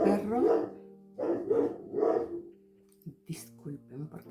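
Dog barking indoors, a few loud barks with growly whimpering tones, followed by shorter softer yips, no speech.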